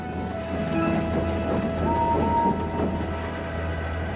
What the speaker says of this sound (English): The main line train was late. At last, Henry arrived